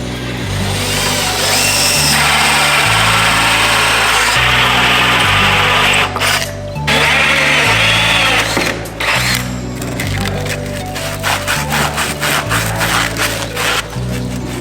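Power drill boring 45 mm holes through wood, a continuous loud mechanical whir and grind with a steady low motor drone, broken by brief pauses and a run of rapid clicking bursts toward the end.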